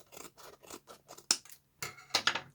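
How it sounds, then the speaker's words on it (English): Scissors snip through paper in a quiet crafting session making a journal fold-out, a run of soft, evenly spaced cuts followed by a few sharper, louder closing snips, close up with no talking. "then I can take my scissors and turn it and cut this bit off"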